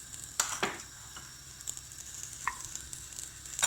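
Butter sizzling in the bottom of a clay güveç casserole pot over the heat, ready for bone-in meat: a quiet, steady frying hiss with a few sharp pops and clicks.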